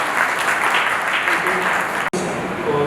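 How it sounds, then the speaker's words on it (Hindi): Audience applause greets a speaker being introduced at a Marudhara News ceremony honouring Covid-era heroes, a steady wash of clapping that cuts off abruptly for an instant near the end, then resumes. "आपकी जोरदार तालियों के बीच श्री जुगल किशोर।"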